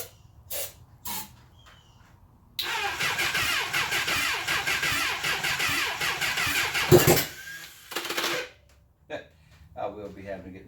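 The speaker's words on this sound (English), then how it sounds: "Man, did y'all hear my starter?" A 1980 Honda CB750F Super Sport with a weak battery cranks on its starter in a long, loud, continuous grinding whir. The engine briefly catches and then dies into quiet, with a few short sounds before and after.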